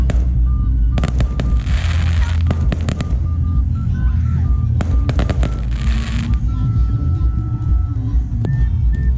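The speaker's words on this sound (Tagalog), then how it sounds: "Tapos ayan, may pa-fireworks pa sila." Repeated fireworks bursts crack and boom over a steady crowd murmur and background noise at Laiya, Batangas, with sharp loud pops scattered throughout.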